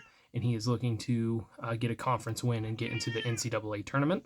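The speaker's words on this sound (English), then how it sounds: "I apologize for my cat." A pet cat meowing repeatedly in a home recording space, its drawn-out cries blending with and partly under someone talking close to the microphone.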